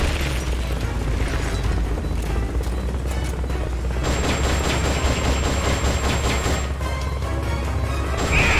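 Sustained M60 machine gun fire in the video game Metal Gear Solid Peace Walker, a dense, loud, continuous stream of booming shots with crashing impacts and no pauses.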